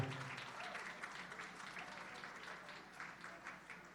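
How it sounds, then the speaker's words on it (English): Faint crowd applause at a gala goes on steadily, a dense patter of clapping heard from a distance with no voices. "please give a tremendous round of applause for Jim, Anne-Marie, Rashid, and Joe."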